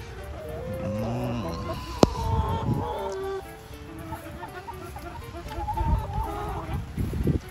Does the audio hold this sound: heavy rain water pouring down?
no